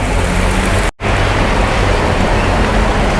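Water pouring from an overflowing pond and several small waterfalls at a roadside coffee shop in Chiang Mai, a loud, steady rushing wash broken by a split-second gap.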